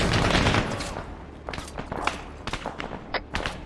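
An emplaced machine gun in Arma 3 rattles off a dense burst first, then scattered sharp shots and thuds follow at a middling distance, with no one talking.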